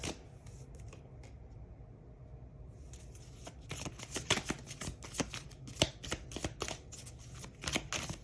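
Tarot cards shuffled and dealt out, a soft steady riffle at first, then a run of sharp crisp snaps and slaps as cards are laid down one after another, close and clear with no talking.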